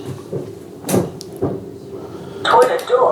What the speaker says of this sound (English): Toilet door is unlocked.